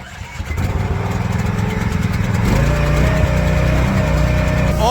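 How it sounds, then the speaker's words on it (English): Engines on TimberOX Summit log splitters crank and start, then run loud and close with a steady rapid putter that rises and firms up as they settle into idle. "All right, gentlemen, start your engines."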